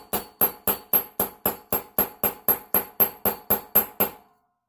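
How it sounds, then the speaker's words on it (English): A hammer taps a diesel generator part against the anvil of a vise in about fourteen evenly spaced, sharp metallic knocks. Each knock rings briefly and fades before the next, and then the tapping stops. "you get a hammer and you just tap it against something very solid"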